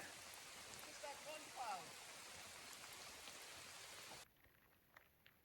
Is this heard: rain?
yes